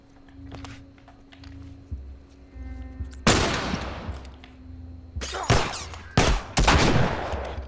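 Gunfire in The Last of Us, with a sharp burst of shots and then several more loud bursts in quick succession, standing out over quiet game ambience with no talk.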